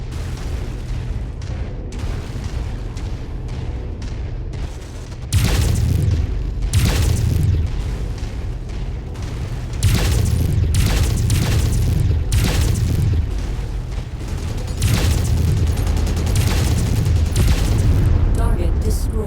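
Destroyed targets exploding in the mech combat game MechWarrior 5: repeated loud, heavy booms and bursts in quick succession over rumbling battle noise, with a voice speaking at times.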